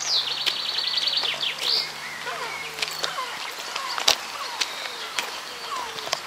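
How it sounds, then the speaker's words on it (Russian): Birds chirp and sing in a seaside eco-park in Varna, bright repeated calls through the first seconds, then scattered short chirps against faint steady traffic hum from a nearby road. "Здесь чудесно поют птички."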